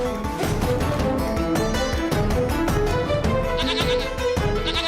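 A goat bleats repeatedly, loud and close, its calls blending into a dense, steady bed of layered tonal sound with no pauses.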